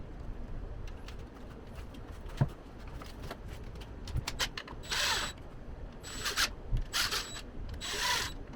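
A hand ratchet tightens cylinder block bolts during an engine rebuild, with quiet scattered clicks early on, then several louder bursts of rapid ratcheting close by over a low background hum.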